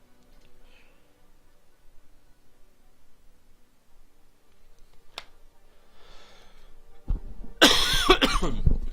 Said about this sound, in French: Ah, je tousse un petit peu.